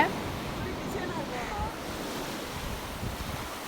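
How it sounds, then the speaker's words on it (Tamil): Sea waves washing onto a Tamil Nadu beach during a family outing, a steady broadband surf roar mixed with gusting wind noise on the microphone, continuous throughout with no clear voices. "அந்த அலையோட சவுண்டு அந்த காற்றுல சாப்பிட்றது ரொம்பவே சூப்பராக இருக்கும்"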